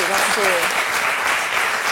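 Audience applause at a televised talk show for a teenage mother's baccalaureate with honours, a steady dense wash of clapping lasting a couple of seconds, with a voice faintly audible beneath it.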